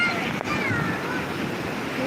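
Sea waves washing ashore near Mannat, Shah Rukh Khan's house in Mumbai, a steady surf wash with wind rumble throughout a short stretch.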